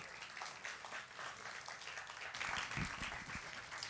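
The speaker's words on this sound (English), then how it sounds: "let's welcome them all with a nice round of applause" An audience at a food and diaspora conversation event gives a round of applause, a steady wash of many hands clapping that swells slightly toward the end, heard at low level from a distance.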